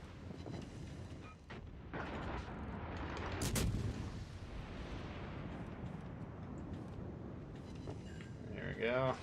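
Naval gunfire in World of Warships Legends: deep booming artillery salvos and rumbling impacts over a continuous game backdrop, with a sharp louder blast partway through, while a person talks over it.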